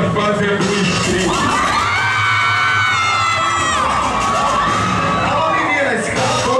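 A nightclub crowd of women screams and cheers loudly and continuously during a live MC show, with shrill whoops rising and falling above a dense, steady wall of crowd noise.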